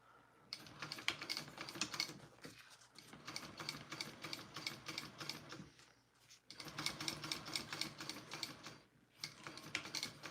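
A sewing machine runs a line of stitching along a bag being made, its rapid clattering bursts loud and close, with two short pauses where the fabric is stopped and repositioned.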